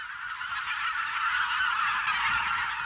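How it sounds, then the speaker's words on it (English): Wild geese honking in late March during spring migration, a dense overlapping chorus of many birds calling continuously, steady and fairly close, with no other sounds. "In late March, the skies suddenly get noisy. The wild geese are back."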